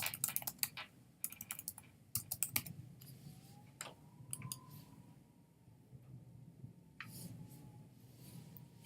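An address is typed on a computer keyboard in a quiet room, with quick bursts of close, crisp key clicks and pauses between the runs of keystrokes.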